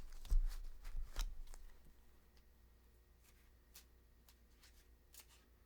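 A deck of cards being shuffled for a card reading gives a couple of quick, soft riffling bursts at the start, followed by faint scattered ticks in a quiet room.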